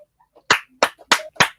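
Four sharp, separate hand claps ring out in quick succession, fairly close and loud, from a small audience after a speech rather than a sustained wave of applause.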